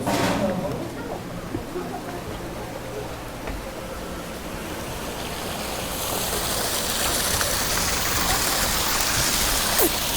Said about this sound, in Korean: 요 폭포가 여또 떨어지고 있네.